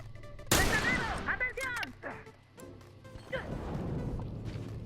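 A rapid burst of gunfire from a Spectre and an HR in a video game cracks out loud and close, followed by scattered impact thuds and clatter, while a commentator's voice runs over the shots.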